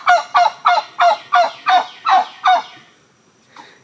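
A hen named Sheila calls loudly and close by, eight rhythmic, evenly spaced honking clucks in quick succession, then a brief pause and one fainter final note.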